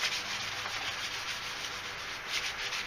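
A tube for a Clone Trooper detonator prop being hand-sanded with 1000 grit sandpaper, a soft steady rubbing hiss with faint rhythmic strokes, close and quiet, no speech.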